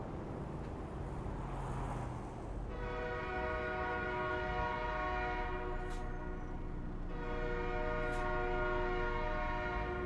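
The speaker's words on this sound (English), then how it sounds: "Sounds like we just made it in time to miss a train back there" A train rumbles past steadily in American Truck Simulator, its loud horn sounding in long sustained tonal blasts that swell and overlap while the continuous roll of wheels carries on throughout.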